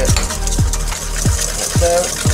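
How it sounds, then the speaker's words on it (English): Sugar and baking powder being whisked in a bowl, a steady clinking and scraping with regular strokes about every half second, close and fairly loud with a hum underneath. "sugar, baking powder, just slightly whisk it"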